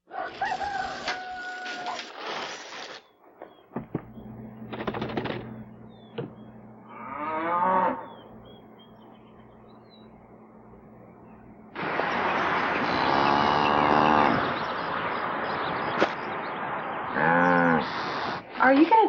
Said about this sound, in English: Are you gonna tell him that's a boy cow?